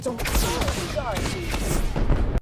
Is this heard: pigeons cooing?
no